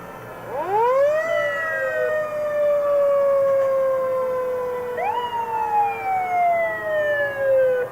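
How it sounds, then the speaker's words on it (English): A fire engine siren in a town anniversary parade in Wilmington, Massachusetts, loud and close, winding up sharply then wailing in long descending sweeps, with a second rise midway before it falls again. "This looks like the replacement fire engine from Billerica."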